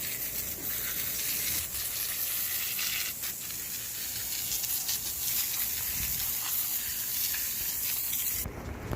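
Garden hose spraying water onto an SRT4 transmission being washed off, a steady, loud hiss of water spray running continuously, with a brief shift in tone near the end.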